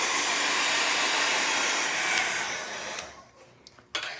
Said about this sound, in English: Now I'm going to hit it with my heat gun.